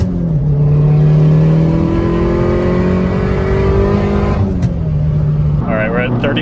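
A 550 WHP big-turbo Saab 9-5 revs and pulls hard, its wastegate dumping exhaust just in front of the oil pan with a rising, growling drone, while people talk over the loud engine.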